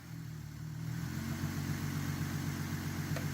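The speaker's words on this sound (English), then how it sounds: "So the car is running." A car engine idles steadily with a low, even rumble, close by and unbroken, with no talking, while showing a P0171 lean-condition check engine fault.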